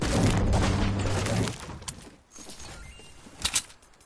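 Gunfire in the video game Fortnite: a dense burst of loud, broadband shots over the first second and a half, then scattered fainter cracks and a sharper pair of reports near the end.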